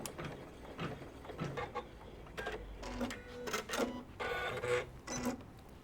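An embroidery machine stitches a cut line on a butterfly tool pouch held in a hoop, giving rapid mechanical bursts of needle clatter separated by short pauses, close and moderately loud.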